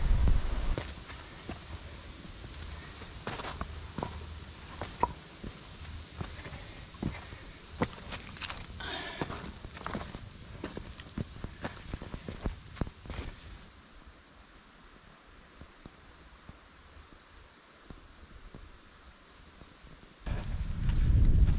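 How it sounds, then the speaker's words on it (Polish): Strong wind roars steadily across the microphone on a black-marked mountain trail climbing Pilsko (1557 m) from Korbielów, with irregular crunching footsteps close by; the gusts ease midway and then surge loud again near the end. "ale im wyżej, tym bardziej okrutne wiatrzysko"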